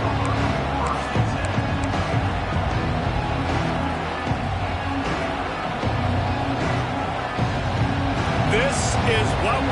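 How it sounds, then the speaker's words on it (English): Football stadium crowd at an Auburn vs Arkansas college game, a steady roaring swell of cheering and hubbub that runs throughout, with a commentator talking over it. "This crowd ready to make its presence known."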